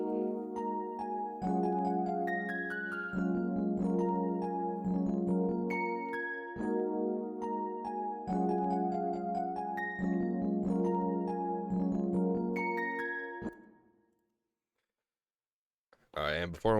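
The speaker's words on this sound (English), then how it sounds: "I went and layered this with another Keyzone Classic piano." Layered Keyzone Classic basic electric piano, doubled with a second Keyzone Classic piano, plays a soft pluggnb melody: sustained chords change about every second and a half for roughly thirteen seconds, then stop, with a short burst of sound near the end.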